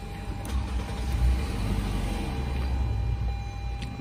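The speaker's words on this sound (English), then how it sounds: "All right, so I'm gonna put the car on right now." A Toyota car engine runs close by with a steady low rumble and a faint hiss, holding an even idle after starting, with no voices.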